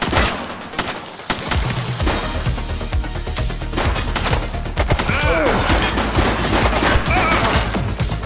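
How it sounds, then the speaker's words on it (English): Sustained rapid gunfire from a police officer video game, dense volleys of shots firing continuously and loudly with brief bursts of voice in between. "Shots fired!"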